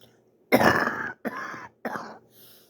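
A person gives three harsh coughs with throat clearing, close and loud, the first burst longest, followed by a softer rasp.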